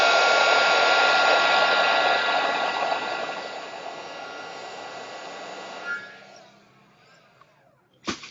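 A heat gun blows steadily while shrinking heat-shrink tubing on a LiPo transponder power lead, a loud even whoosh that fades after a few seconds, then a brief click near the end.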